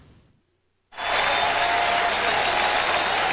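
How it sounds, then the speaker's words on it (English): A baseball crowd at a 1997 National League Division Series game in Florida bursts into loud, sustained applause after a brief near-silence, cheering steadily. "a round of applause for Charles Johnson"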